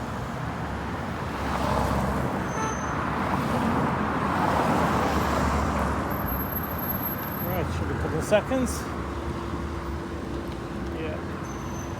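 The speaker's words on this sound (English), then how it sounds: "traffic's still passing through from previous lights change" Steady road traffic rolls through a set of lights, a continuous broadband rumble of passing cars and heavier vehicles at moderate distance, with a person speaking briefly over it.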